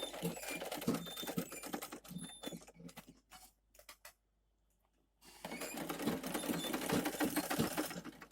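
A sewing machine stitches a mini bag of two-faced stretchy leather in rapid close bursts of clicking. The stitching stops for about a second of near silence, then resumes steadily.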